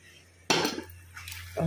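Ground spinach stirred into masala in a pan, with two distinct metallic clinks and scrapes of a utensil against the pan separated by a brief quieter stir, close and moderately loud.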